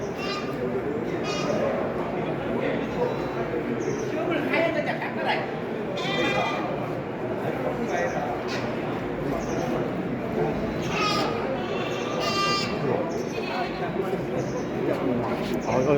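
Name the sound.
goats bleating at goat auction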